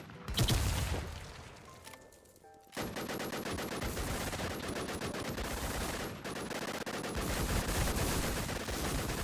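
Rapid automatic gunfire from a video game shooter comes in close, loud bursts. A heavy blast opens the clip, then a short lull gives way to sustained rattling fire that runs to the end.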